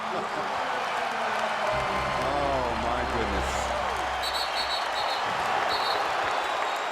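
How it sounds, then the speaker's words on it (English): Steady roar of a basketball crowd cheering at Staples Center during Kobe Bryant's 81-point game against the Toronto Raptors, a dense continuous wash of noise with a commentator's voice exclaiming over it. "Listen to this crowd."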